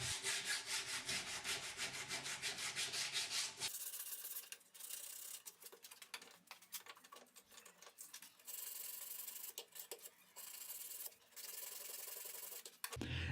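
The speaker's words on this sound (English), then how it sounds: "I will clean the file marks with 100 grit sandpaper" Wood is sanded by hand with 100 grit sandpaper to clear file marks, a soft rhythmic rubbing that is fast and dense at first, then slower scratchy strokes with brief pauses, close and quiet.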